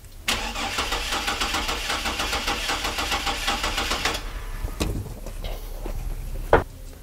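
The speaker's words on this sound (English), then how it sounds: "First, we'll start cranking." A car engine cranks over without starting, a rapid, rhythmic churning for about four seconds, then stops, followed by a few clanks and a short sharp knock.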